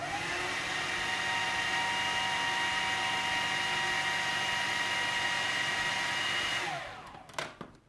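A kitchen mixer runs steadily with its lid on, whirring loudly through zucchini bread batter for several seconds before spinning down and stopping with a few light clicks.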